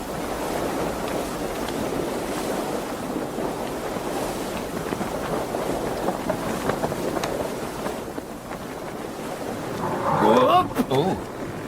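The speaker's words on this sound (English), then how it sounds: "Listen to those waves." Ocean waves and gusting wind surround an 18th-century sailing ship at sea off Cape Horn, a steady broad wash of surf and wind noise throughout, with the crash briefly louder near the end.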